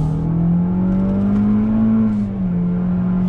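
A 2020 Toyota Corolla engine hums loud and steady from inside the cabin, pitch rising gently as it pulls out and accelerates, then easing back down, with no talk over it.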